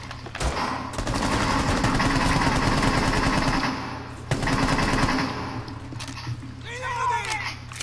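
Rapid automatic gunfire in the Rainbow Six Siege video game, sustained bursts of close shots with a short break in the middle and a faint pause near the end, over a low hum.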